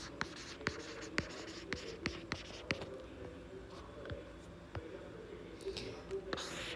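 Marker strokes on a whiteboard as a formula is written, a series of short squeaky taps and scratches at an irregular pace, close and fairly clear, with a faint voice murmuring in the background.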